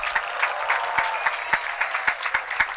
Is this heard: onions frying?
no